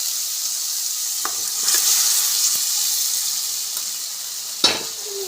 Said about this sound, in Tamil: இப்போது மட்டன் ஆட் பண்ணிக்கலாம்.